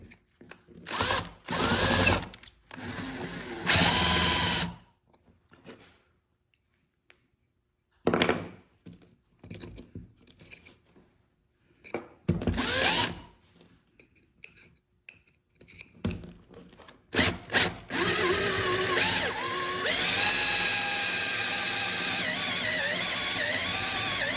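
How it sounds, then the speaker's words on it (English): A drill bores a 15/16 inch hole through a test cap in several separate bursts, each a loud whirring grind followed by quiet pauses, then a longer continuous run of drilling near the end. "We'll start drilling the hole from the top, turn it over, and finish drilling upside down."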